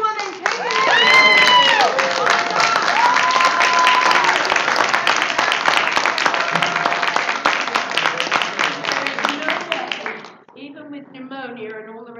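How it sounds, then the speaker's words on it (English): Audience at a live comedy broadcast bursting into loud, sustained applause with some cheering, while a voice speaks over the clapping, which fades out near the end. "Please applaud your butts off for this woman, please."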